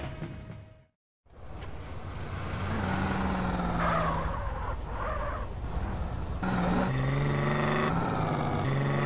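Cars and low-rider vehicles in GTA San Andreas drive and pass by after a brief silence, with engine rumble, whooshes and shifting engine tones rising and falling over several seconds, no speech.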